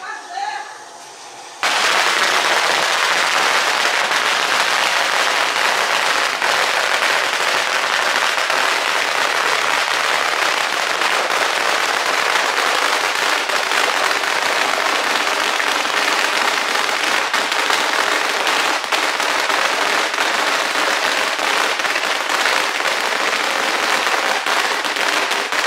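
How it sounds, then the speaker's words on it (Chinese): A long string of firecrackers set off outdoors in a mountain village to welcome guests, bursting in a dense, continuous, loud crackle after a brief quiet start. "要放鞭炮了。"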